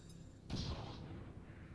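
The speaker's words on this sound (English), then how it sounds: "let's go loud with one of these grenades instead" A single grenade explosion in XCOM 2 Long War of the Chosen: a sudden muffled boom over a quiet ambient bed, then a short decaying rumble, faint and alone.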